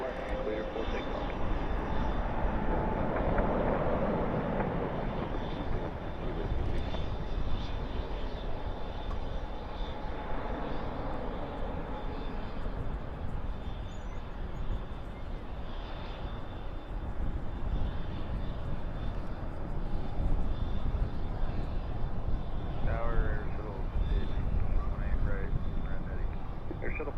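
Jet engines of heavy aircraft at Dallas/Fort Worth airport at night produce a continuous broad roar that swells and fades slightly over time, with a radio voice audible over it.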